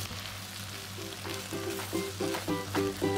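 Shredded cabbage sizzles in a pan of yaki noodle stir-fry while it is stirred, making a continuous frying hiss with a low steady hum beneath and rhythmic scraping strokes that grow louder toward the end.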